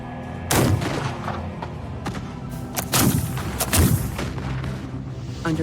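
Battle sound effects of gunfire and artillery crash in repeated heavy booms and sharp reports, loud and close, with rumbling layers between the blasts and no voices.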